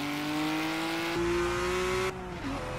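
A standard road car in the Project CARS racing game drives on California roads, its engine revving with a steady rising whine, then dropping sharply as it shifts, while tire and road noise hum beneath.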